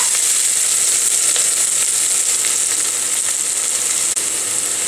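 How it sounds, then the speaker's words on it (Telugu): Onions with ginger-garlic paste fry in a pan for a beans and tomato curry, giving a loud, steady, close-up sizzling hiss that runs unbroken from start to end. "ఇప్పుడు దీన్ని కూడా బాగా పచ్చి వాసన పోయేంత వరకు వేయించుకుంటాను"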